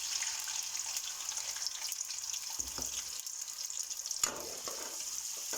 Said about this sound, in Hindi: ऑयल गर्म हो गया हमारा, मसालों को हल्का सा तड़का लग गया। अब इसमें डालेंगे प्याज।